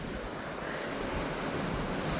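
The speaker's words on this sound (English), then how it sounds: "Wind is just roaring now, due out of the north, coming right through the buildings" Blizzard wind roars out of the north through city buildings, gusting 65 to 75, as a dense, steady broadband rush with no voices.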